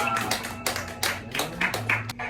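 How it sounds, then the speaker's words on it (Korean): A handful of sharp, evenly spaced hand claps ring out over sustained music during a student worship service at a church. "영광의 박수 올려드립니다."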